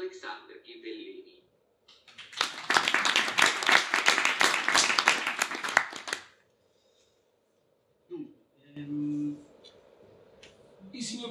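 Warm audience applause at a business meetup greets a speaker as he is introduced, a dense burst of clapping lasting about four seconds, with speech before and after it.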